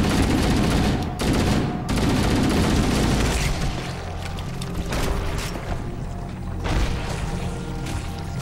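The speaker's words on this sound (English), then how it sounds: "Is that all the explosions?" Dense, continuous gunfire and booming explosions in Halo: Combat Evolved, loud and chaotic, with bursts of rapid shots layered over heavy rumbling blasts.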